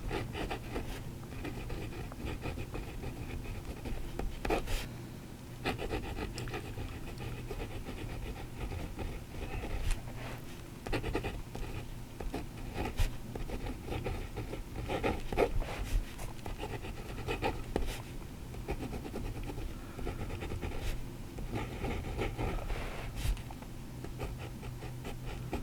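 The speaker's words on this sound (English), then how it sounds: "We're going to do some writing now with the fountain pen." A fountain pen fitted with a standard number 5 Moonman nib writes on paper, giving a long, quiet, close-up run of soft scratching strokes with small irregular ticks and pauses as letters form.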